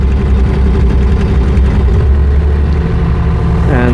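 A JoyT5 JT5350 3.5-ton mini excavator drives in single speed, its diesel engine running at a loud, steady low rumble with a constant drone throughout.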